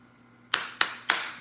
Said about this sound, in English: 3 claps for A&M.